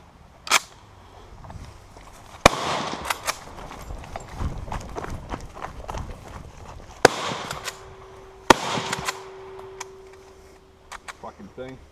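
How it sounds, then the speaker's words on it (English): A Steyr M95 infantry long rifle fires a few sharp, loud shots spaced seconds apart during bounding fire, with footsteps, rustling and handling noise between them and a brief tone near the end. "this will be bounding fire with the M95"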